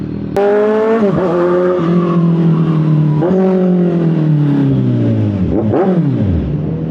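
A motorcycle engine revs hard under the rider's throttle, loud and close, its pitch climbing and dropping in several sharp surges as the throttle is blipped repeatedly, with no talking.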